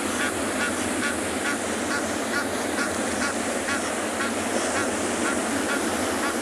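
Egyptian geese honk repeatedly over a dense, steady wash of water and outdoor noise, the calls rhythmic and moderately distant.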